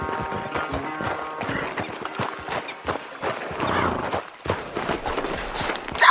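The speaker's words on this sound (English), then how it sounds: "Damn horse acting up on me, of all the times." Horse hooves clip-clop rapidly with a short neigh during a horse race in Red Dead Redemption, layered over game music and busy effects, loud and continuous throughout.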